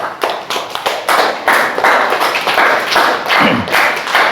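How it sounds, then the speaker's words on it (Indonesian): Classroom applause for a student group after their presentation, a steady burst of many hands clapping close by for about four seconds, with no talk over it. "tepuk tangan untuk kelompok 2"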